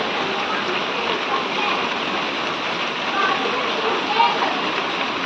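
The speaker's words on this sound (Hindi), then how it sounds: "बारिश बहुत तेज़ वाली बारिश है" Heavy rain pours steadily outdoors in an Indian residential lane, the alley flooding, with a dense, even roar of water on surfaces close by throughout.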